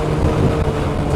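A 2025 Honda Forza 125 scooter drones steadily while riding, a loud, continuous low engine hum mixed with road and wind rush, constant throughout with no voices.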